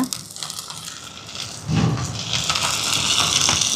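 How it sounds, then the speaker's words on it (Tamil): Fenugreek and cumin seeds fry in hot oil in a pan, crackling and popping up close. The sizzle grows louder partway through and keeps going steadily, with no talk over it. "இப்போ இது கொஞ்சம் பொரியட்டும்."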